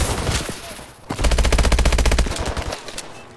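Gunfire in the video game Call of Duty: Advanced Warfare, campaign mission "Collapse": a few loud single shots, then a long, rapid automatic burst that rattles on for over a second before trailing off.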